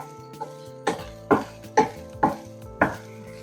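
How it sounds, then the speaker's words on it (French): Carrots and leeks stirred in a hot pan, five or six sharp scraping knocks of a utensil against the pan in a steady rhythm, close and clear with no talk. "Et vous allez remuer de temps en temps, bien entendu."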